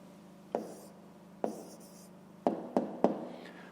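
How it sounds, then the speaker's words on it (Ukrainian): Pen or pencil strokes on paper while jotting down a maths answer by hand, a handful of short scratchy taps and scrapes spaced irregularly over a quiet room tone, fairly close and soft. "Записуємо відповідь."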